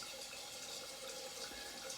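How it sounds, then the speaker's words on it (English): Water runs and splashes softly from a tap onto hands at a sink before shaving, a faint, steady close-up trickle without speech. "Just put some water on the hands"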